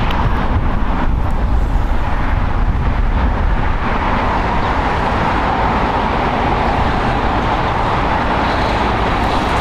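A China Airlines Boeing 777 freighter at LAX, heard as a loud, steady broadband roar of jet engines that holds evenly throughout with no voices.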